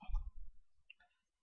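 A computer mouse clicks while a file tab is opened in Google Drive: a soft low knock near the start, then a sharp, close click just under a second in, with quiet surroundings.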